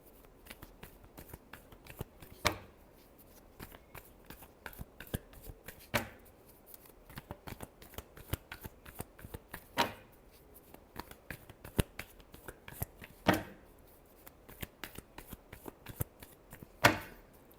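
Tarot cards are shuffled up close, a steady flurry of soft riffling and slapping with sharper clacks every couple of seconds as the deck is squared, with no talking.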